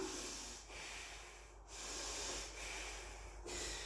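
Slow, deep breathing during a yoga squat pose, steady airy hiss-like breaths with several audible inhales and exhales rising and falling, faint and close, with no talking.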